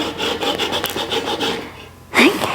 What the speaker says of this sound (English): do you want to zest this lemon?